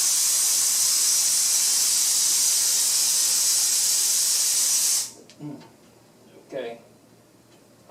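Nakomed anesthesia machine switched on, giving a loud, steady hiss of escaping gas that cuts off abruptly after about five seconds, followed by a few quiet clicks and knocks.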